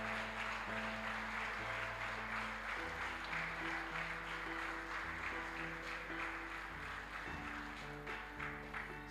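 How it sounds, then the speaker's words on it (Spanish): A church congregation claps together, a quiet, steady patter of applause over sustained organ-like tones and a low hum. "Dale un aplauso al que vive"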